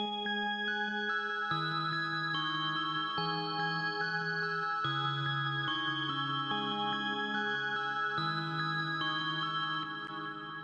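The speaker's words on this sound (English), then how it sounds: "it's basically a DX7 sound and one of the DX7V plugins" A DX7-style FM synth patch from the Analog Lab 3 plugin plays sustained, bright chords that shift roughly every second and a half, heard alone and steady throughout.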